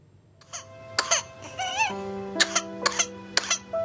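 A sick child with measles coughs in a series of sharp, close bursts, several spaced out and a few clustered together, with whimpering, cry-like sounds between them.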